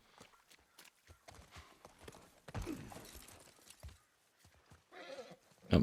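Horse hooves clip-clop in The Last of Us Part 1, a few soft scattered steps under ambient game noise, with a louder scuffling burst in the middle and a sharp thump at the end.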